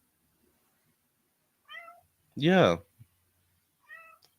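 A cat meows indoors, with one loud, drawn-out meow between two shorter, higher cries, and a voice briefly speaks amid quiet pauses.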